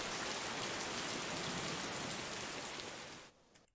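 Steady, even rain ambience pours down as a dense wash of drops for most of the stretch, then drops away abruptly near the end, leaving near-silence.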